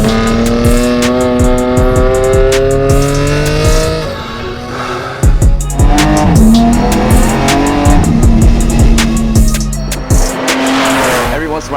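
A BMW GT4 race car laps a racetrack, its engine loud and close, revving hard through rising and falling gear sweeps, with tire squeal and skidding through the corners and a voice talking over the noise.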